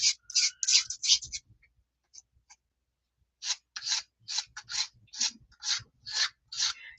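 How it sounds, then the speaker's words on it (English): Paint being scraped across a surface during a painting session: a fast run of short, dry scrapes, a brief pause with a couple of faint strokes, then a second steady series of close, rhythmic scrapes. "there's no rhyme or reason to my scraping. There's just scraping."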